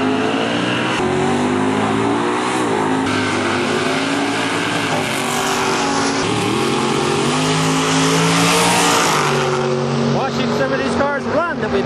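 Plymouth Barracuda drag racing car called Purple Ice at the NHRA National Open, Portland International Raceway 2009, its engine droning loudly and steadily with rising revs near the end, while people talk over the noise.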